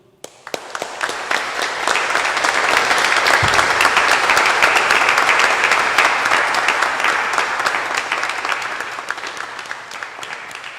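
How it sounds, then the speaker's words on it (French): Sustained applause from a church conference audience, rising quickly to a full, loud, dense clapping that holds steady for about ten seconds. "Le travail du Seigneur mérite bien ces applaudissements que vous avez donnés"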